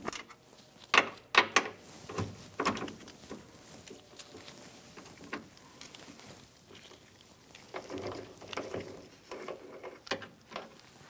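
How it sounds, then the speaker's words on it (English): An 11mm socket ratchet undoes the door panel nuts on a Ford E-350 Super Duty van. Close, irregular bursts of ratcheting clicks and metallic handling noises are separated by short pauses. "using an 11mm, we are going to undo these 4 nuts"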